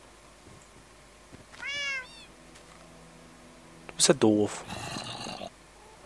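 A cat in the video game Minecraft meows twice, a short mew followed a couple of seconds later by a louder, longer one, against a quiet background with a brief spoken remark.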